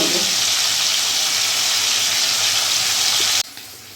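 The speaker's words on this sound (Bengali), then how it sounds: "মাথাগুলো আমি একটু লাল লাল করে এবার ভেজে" Fish heads fry in hot oil, a loud, dense, continuous sizzle held close for several seconds before it abruptly drops to a quieter hiss.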